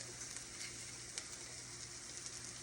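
Onions fry in olive oil with a soft, continuous sizzle heard close by and fairly quiet, with no one talking.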